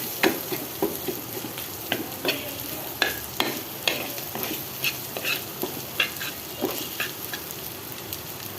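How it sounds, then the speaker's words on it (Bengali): Minced meat fries with onions in a pan under a continuous sizzle, while a utensil stirs and scrapes in a steady rhythm about twice a second, close and clear with no talk. "এটার সাথে ভাজা ভাজা করে পেঁয়াজটার সাথে এটা অ্যাড করে দিব"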